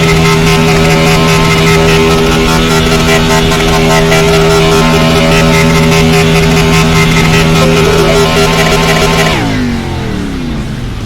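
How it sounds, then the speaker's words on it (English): A racing video game engine holds a loud, constant high-rev scream for about nine seconds, then winds down sharply near the end, leaving a fading tail. "the engine revs like crazy until I get it going again"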